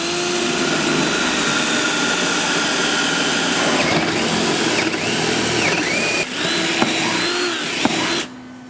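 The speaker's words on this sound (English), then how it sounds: "a 5/8 inch hole needs to be drilled from the top of the deck through the decking and blocking" A power drill bores a 5/8 inch hole from the top of a Trex deck through the decking and blocking, giving a loud, continuous grinding whine that shifts in pitch near the end and then cuts off abruptly.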